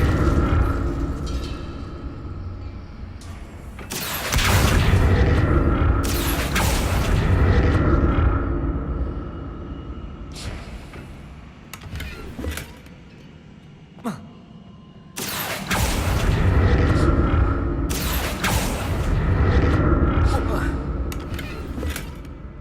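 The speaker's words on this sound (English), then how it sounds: "What did that burst of magic do?" A burst of magic cast in the Hogwarts Legacy video game: loud, booming surges of energy that swell and fade in two big waves, with lighter crackles between them and a voice speaking at times.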